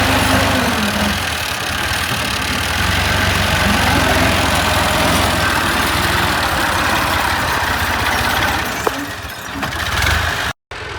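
A tractor-driven rice puddler works in a field, its engine running steadily with a loud, continuous low rumble and broadband mechanical noise throughout, briefly cut off near the end.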